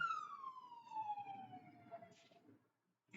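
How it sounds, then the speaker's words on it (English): An ambulance siren wails with a steady falling pitch as it passes, fading into the distance over low background rumble before dropping to near silence. "ambulance just went past. I don't know if you heard it."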